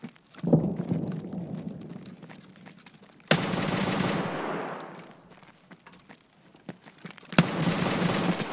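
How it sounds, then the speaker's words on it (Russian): Bursts of automatic gunfire from an enemy in Escape from Tarkov, fairly loud and close, with a sharp onset near three seconds and another near seven seconds, separated by lulls. "Почему он по мне стрелял?"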